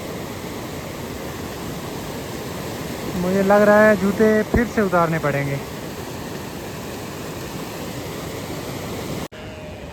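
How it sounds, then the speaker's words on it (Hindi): A mountain waterfall stream rushes down on a high Himalayan trek, a continuous broadband roar close by, with someone speaking briefly over it midway. "ऊपर से जो झरना है वो बहता हुआ आ रहा है।"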